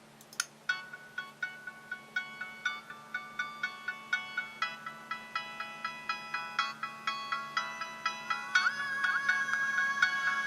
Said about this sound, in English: this is music being transferred by USB to the device and then played through the DAC connected to the speaker